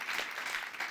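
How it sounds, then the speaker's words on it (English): A live audience at a business growth show claps for Eric in a short, faint burst of applause that sounds distant and thin. "Give Eric a round of applause."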